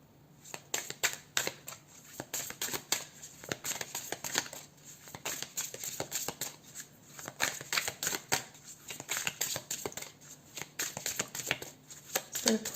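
A tarot card deck being shuffled by hand indoors, giving steady, close riffling and flicking of cards in quick irregular bursts throughout, with no talking.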